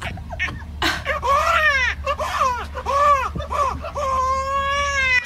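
A man mimics a crying infant with his voice, producing a run of wailing, rising-and-falling sobs close up, followed by a longer drawn-out cry, over a low room hum.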